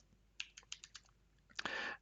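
A command is typed on a computer keyboard: a handful of light, evenly spaced keystrokes, then a brief pause and a quick cluster of louder taps ending in a firm key press, close and quiet with no talking.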